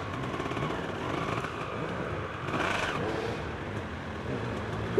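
A dirt bike engine revs as a rider comes around a corner and heads up a hill on an off-road course, a steady mid-range motor drone that swells briefly midway, heard from a moderate distance.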